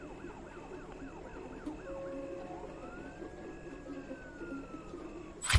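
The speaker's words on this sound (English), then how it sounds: "I can hear sirens in the distance." A police siren in an indie horror video game wails in the distance, rising and falling in a steady sweep over a low ambient hum, followed by a longer drawn-out tone.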